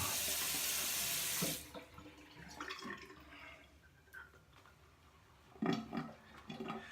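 A bathroom tap runs hard and steady for about a second and a half while water is splashed onto the face during a wet shave, then gives way to quieter splashing, dripping and handling sounds nearby.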